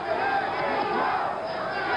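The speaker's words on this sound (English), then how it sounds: "The crowd is now yelling, Jimmy Young." Boxing arena crowd at a 1977 Ken Norton vs Jimmy Young heavyweight fight, a dense, steady roar of yelling and cheering that fills the hall evenly, loud and continuous throughout.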